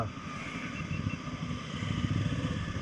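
Superbike engines, including a Suzuki Hayabusa, on a group Sunday ride: a loud, steady, rough engine roar that holds throughout and swells slightly near the end, with no talk.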